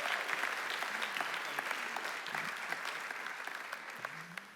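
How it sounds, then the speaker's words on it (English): A graduation audience applauds in a sustained round of clapping at moderate volume, a continuous patter of many hands that thins gradually, with a brief voice emerging near the end. "No applause for Mr. Scott?"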